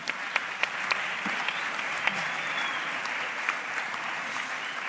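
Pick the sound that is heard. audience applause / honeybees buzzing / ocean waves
audience applause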